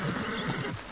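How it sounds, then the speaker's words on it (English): A horse in the video game Red Dead Online gives a short, close whinny with rough, pulsing breaths that fill the moment, with no talking over it. "Both of our horses are dying."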